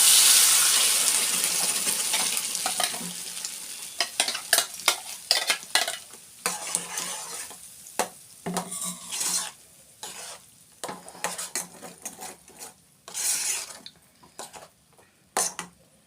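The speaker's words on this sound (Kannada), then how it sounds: "ಲೋ ಸ್ಲಿಮ್ಮಲ್ಲಿ ಇಟ್ಕೊಂಡು ಒಂದು 2 ಮಿನಿಟ್ಸು ಹಸಿ ಸ್ಮೆಲ್ ಹೋಗೋಂಟ ರೋಸ್ಟ್ ಮಾಡ್ಕೊಳ್ಳಿ." Ground masala for a tomato chutney roasting in a pan over a low flame, with soft sizzling and repeated scraping, stirring strokes that come and go close by, with no talking.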